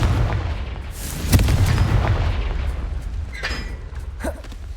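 A fiery Confringo spell blast in Hogwarts Legacy, a loud booming burst with a sharp crack near the start, rumbling debris and smaller pops trailing off afterward.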